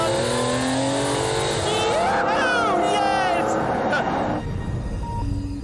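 A McLaren F1 accelerating hard out of a chicane, engine revving up through rising pitch and upshifts, loud and close, with someone talking over it.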